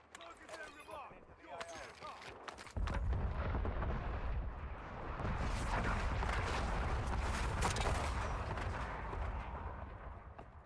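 Artillery bombardment in the Warzone video game rumbles in after a couple of seconds, a dense, sustained roar of blasts and crackling impacts that swells and stays loud, following some brief game audio at the start.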